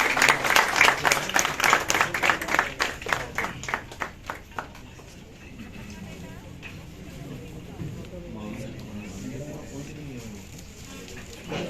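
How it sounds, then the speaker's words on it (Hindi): An audience at a retirement farewell ceremony claps in a burst of applause that fades over about five seconds, followed by quiet room murmur and a voice speaking. "दिग्गज दो चीफ मैनेजर आज रिटायर हो रहे हैं, तो आज तालियों में कोई कमी नहीं होनी चाहिए।"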